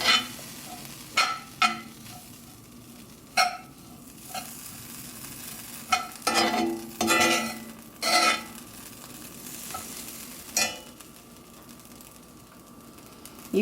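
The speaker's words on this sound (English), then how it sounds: "I am toasting this bread, the breadcrumbs, on low." Breadcrumbs toasting in a pan on low heat for vegan oyster mushroom cakes, heard as a soft steady sizzle broken by repeated scraping stirs at irregular intervals, close and fairly quiet.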